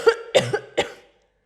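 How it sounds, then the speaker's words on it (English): A person coughs three times in quick succession, close and clear, each burst harsh and short, followed by silence. "When you cough, you force out the air noisily through your throat."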